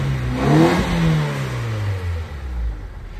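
A Nissan Sentra engine with an ECCS fuel system revs up and falls back in a couple of loud, close sweeps, then settles toward a lower drone.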